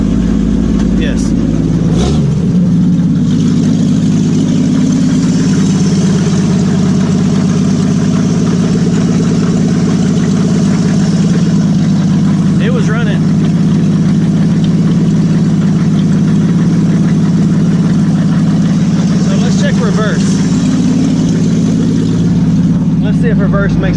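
Willys truck engine running loud and close with a steady low rumble and a brief rev near the start, while people talk over it.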